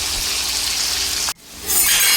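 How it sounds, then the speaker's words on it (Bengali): Cut potatoes frying in hot oil in a pan, a steady close sizzle that drops out abruptly for a moment, then returns brighter and louder, with no talking. "আলুগুলো একটু লাল করে ভেজে তারপরে তুলে নেব।"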